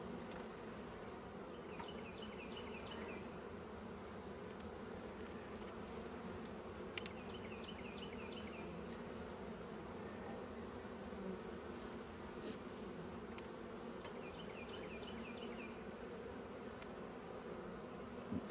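Honeybees drone steadily inside an open hive during an inspection. The low buzzing stays constant throughout, close by and fairly quiet, with occasional faint clicks and small bumps from handling the frames.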